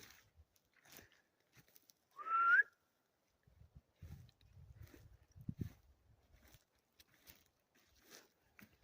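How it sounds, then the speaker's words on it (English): A single brief whistle, a short rising tone, rings out in quiet woods during a scouting trip, followed by soft rustling and footsteps. "Is that a whistle?"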